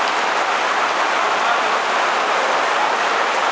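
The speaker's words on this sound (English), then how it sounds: "Oh, it's raining. It's big time." Very heavy rain pours down in a torrential outdoor downpour, a loud, dense, steady hiss of drops hitting surfaces that holds without a break from start to finish, with no voices.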